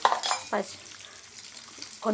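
A tempering for chutney fries in a pan, with short bursts of sizzling and stirring scrapes separated by quieter gaps, fairly close.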